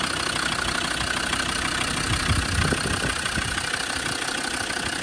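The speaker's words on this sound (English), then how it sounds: "Just idling as it should." A Land Rover Defender 90 TD5 diesel with 112,000 miles idles steadily, a close, even engine drone with a faint knocking rumble and no talk.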